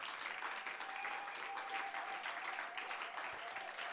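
A church congregation applauds the Lord during a French-language worship service, steady continuous clapping from many hands with a faint sustained tone beneath, moderately distant and even throughout.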